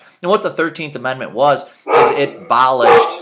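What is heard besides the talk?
dog barking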